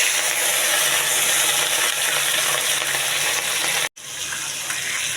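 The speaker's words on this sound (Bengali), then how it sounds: "এই যে মাছগুলো কড়াইয়ের মধ্যে দিলাম," Pieces of rui fish sizzle loudly and steadily in hot oil in a karai wok, a dense continuous crackle with a brief break near the end.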